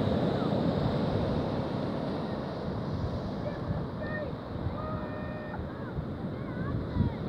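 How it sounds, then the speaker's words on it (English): Steady roar of surf and crashing waves with strong wind noise buffeting the microphone throughout. "I wouldn't want to get messed up in those waves"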